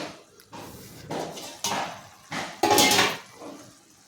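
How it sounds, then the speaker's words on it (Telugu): A few metallic clanks and scrapes of a lid being lifted off a pot of cooking tomato semiya, close by, in separate bursts over a few seconds. "ఒకసారి మూత తీసి చూద్దామండి"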